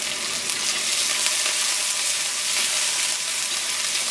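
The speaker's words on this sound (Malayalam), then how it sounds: "ഉണക്കമുളക് പതുക്കൊന്ന് പൊരിഞ്ഞു തുടങ്ങിയിട്ടുണ്ട്" Dried red chillies, onion and green chilli fry in a pan with a steady, bright sizzle that holds evenly from start to finish, close and fairly loud, with no voice.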